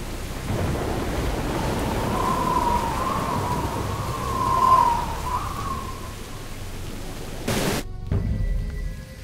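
Thunderstorm and heavy rain in the Jurassic Park video game, a constant rain hiss with a long rolling thunder rumble peaking in the middle, then a sharp burst near the end before the noise drops away.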